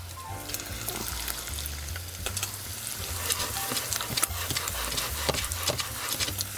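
Bacon fries in a pan with a continuous crackling sizzle, scattered pops rising slightly in the second half, with a low hum underneath and no speech.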